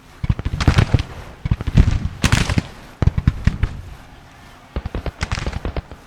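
Musket volleys from Civil War troops and skirmishers in the strategy game Grand Tactician: The Civil War. Close, crackling clusters of shots come in ragged bursts separated by short pauses, with no talking.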